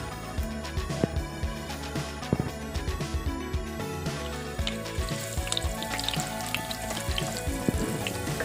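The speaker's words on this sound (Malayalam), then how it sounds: "ഈ പാനിലേക്ക് നമ്മൾ കുറച്ച് എണ്ണ ഒഴിച്ച് കൊടുക്കുകയാണ്" Oil sizzles and crackles steadily in a pan heating for frying sardines (mathi), a dense continuous hiss with scattered louder pops and light clinks throughout, no voices.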